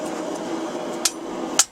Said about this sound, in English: And we hammer it out.